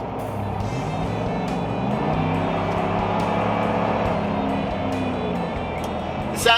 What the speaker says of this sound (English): The exhaust sounds extremely throaty, very well tuned.